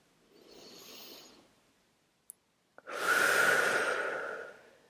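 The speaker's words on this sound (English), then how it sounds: "Take another deep breath in." Slow, deep breaths during a guided meditation drum session: a soft inhale, a pause with faint clicks, then a longer, louder airy exhale, close and alone.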